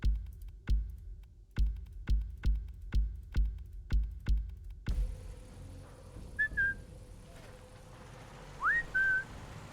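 A player character in Sniper Elite 5 whistles in a series of about nine short, sharp, evenly spaced blasts, then the scene shifts to quieter ambience with a couple of faint distant whistled calls.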